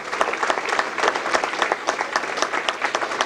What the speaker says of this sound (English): How about one big round of applause for all of tonight's Hall of Fame inductees in the Pittsburgh Circle Track Club